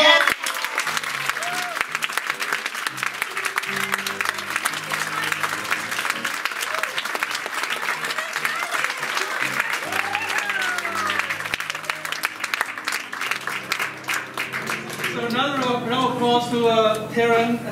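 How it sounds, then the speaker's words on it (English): An audience at a live show applauds at length, dense steady clapping mixed with cheers and voices, ending with music under the crowd noise. "Another round of applause for Paul"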